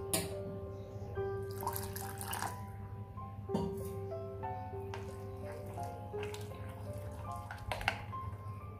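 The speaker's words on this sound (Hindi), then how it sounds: "बैटर अभी थोड़ा गाढ़ा है, तो हम इसमें थोड़ा सा पानी ऐड कर लेते हैं" Water trickles and splashes into thick semolina idli batter in short pours and drips, close by, with faint tonal clinks from a bowl or utensil.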